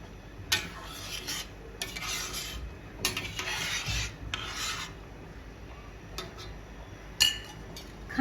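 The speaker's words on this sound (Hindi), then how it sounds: "एक बार अच्छे से मिक्स कर लेना है।" Chicken chargha ingredients being mixed in a bowl, with repeated scraping and rubbing strokes in uneven bursts, close and clear with no talking.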